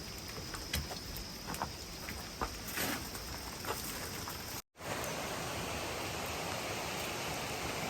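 Rain falling steadily around a trail shelter on a long-distance hike, a constant soft hiss with scattered drips and patters, and a brief dropout partway through.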